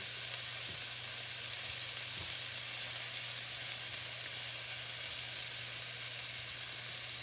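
Beef pieces sizzle steadily in a hot pan while browning, a constant close hiss with a low hum beneath and a couple of faint clicks as pieces are moved.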